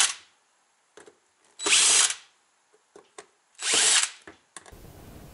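A rotary tool with a carbide cutting tip grinds into a metal multimeter shunt in two loud, close, high-pitched bursts of about a second each, separated by short taps and clicks of handling.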